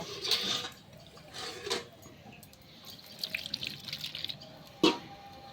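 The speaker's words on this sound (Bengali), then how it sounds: "প্রথমে ধুয়ে নিব।" Running tap water splashes while a muskmelon is washed in a home kitchen before making payesh, a steady soft trickle with a few brief louder splashes, no talking.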